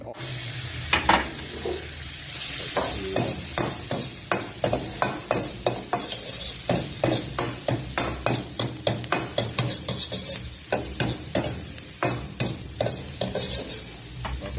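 Garlic and mushrooms stir-fried in a pan, with a steady sizzle broken by rapid, rhythmic clacks of a utensil scraping and tossing against the metal, close and loud throughout.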